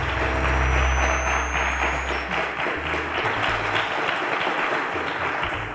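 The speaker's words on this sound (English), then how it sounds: "Ladies and gentlemen, a round of applause for Oseghale." Applause from a studio audience for a quiz show contestant, a sustained dense clapping that stays loud throughout, with a low rumbling hum underneath during the first half.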